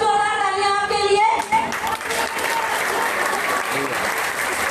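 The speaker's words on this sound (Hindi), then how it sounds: "बहुत बहुत जोरदार तालियां आपके लिए।" Loud, dense applause from an audience at a company leadership gathering in Ayodhya, breaking out after a voice and carrying on steadily as a crowded wash of clapping.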